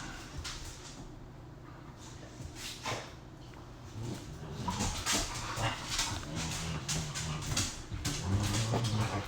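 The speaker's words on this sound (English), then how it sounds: "Fucking dog." Nearby indoors, a dog whimpers and whines in short, uneven bursts for several seconds. Small clatters and shuffling sounds mix in, and no one speaks.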